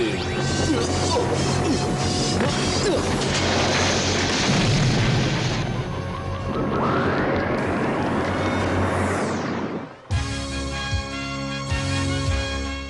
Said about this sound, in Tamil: அந்த டிரான்ஸ்மியூட்டேட்டர் வெடிச்சு செதறிடுச்சு